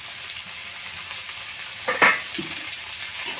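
Peas and chopped tomato sizzling in a pan, a steady hiss of frying with a sharp clatter and a burst of louder sizzle as the ingredients go in.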